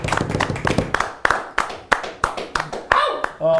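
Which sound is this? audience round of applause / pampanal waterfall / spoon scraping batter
audience round of applause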